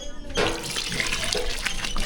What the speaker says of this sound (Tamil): லாஸ்ட்டாக வந்து புளி தண்ணி சேர்த்துக்கலாம்